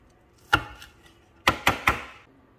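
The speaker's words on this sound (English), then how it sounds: "So I chopped up a few green onions." Green onions being chopped on a cutting board with a knife: one sharp close chop, then three quick chops in a row, loud and distinct against a quiet background, no talking.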